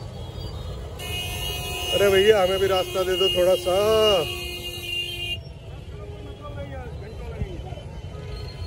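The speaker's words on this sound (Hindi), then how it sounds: "रेलवे स्टेशन से बाहर निकलते ही जबरदस्त ट्रैफिक रहता है यहाँ दोस्तों" Heavy traffic just outside a railway station in Kanpur, with repeated car horns honking and tooting over a steady engine rumble and a high electronic buzz. Someone talks over the noise.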